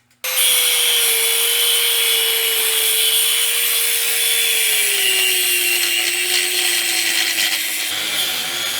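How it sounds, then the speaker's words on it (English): A cutoff wheel grinds through bolts on a 1981 Ford F100 axle, one loud continuous high whine that holds steady and drops slightly in pitch under load for about eight seconds. "I'll cut them off about right there with my cutoff wheel"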